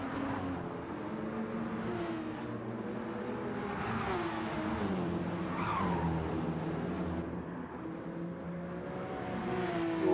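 BMW GR3 race cars roar around the Nürburgring Nordschleife in a racing sim, engines howling loudly and steadily with rising pitch as they accelerate, tires squealing at moments.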